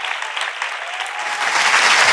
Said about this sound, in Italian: un altro applauso all'ospite di questa puntata.